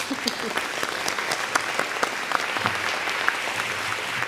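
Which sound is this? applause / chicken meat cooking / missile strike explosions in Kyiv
applause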